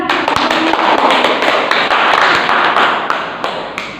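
A classroom of students applauds a classmate, a dense, steady patter of many hands clapping at once that fades slightly toward the end, with no voices.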